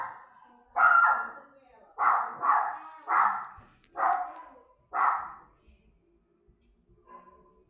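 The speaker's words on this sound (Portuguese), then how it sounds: "Tá um barulho aqui do cachorro." A dog barks nearby in a series of about six loud, separate barks at irregular intervals, with a faint whimper at the end, heard alone indoors.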